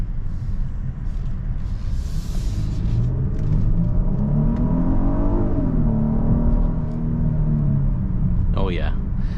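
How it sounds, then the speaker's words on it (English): A 2024 Genesis GV80 in sport mode accelerates hard, its engine note rising steadily in pitch beneath a constant road rumble, heard from inside the cabin as someone talks over it. "We're gonna go ahead and do an acceleration right here."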